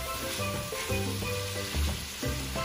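Sweet corn sizzles and fries in a hot pan for Trinidad-style fried rice, a close, steady crackle with stirring scrapes and brief tonal clinks, no talk.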